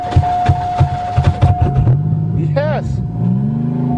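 An Oldsmobile 88 cranks with rapid rhythmic chugs, then catches and settles into a steady idle, close by, with a person speaking over it.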